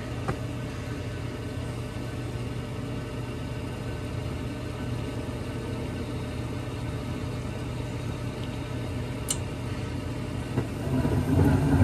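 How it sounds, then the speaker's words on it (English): A gas furnace on test runs with its draft inducer motor humming steadily, a constant low mechanical drone with a faint brief click near the end and a slight rise in level at the close. "Now we're just going to test our furnace right here. Draft inducer."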